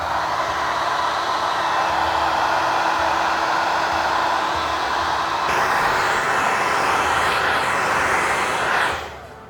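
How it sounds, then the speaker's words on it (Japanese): A hair dryer runs off a portable power station, blowing in a loud steady whoosh that shifts pitch once midway and then cuts off near the end. "あとはこういったドライヤー、これも家で結構使う人多いんじゃないでしょうか"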